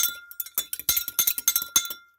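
A utensil beating an egg yolk with a tablespoon of water in a cup, giving a quick run of bright clinks and taps against the cup, steady and close, with no talk.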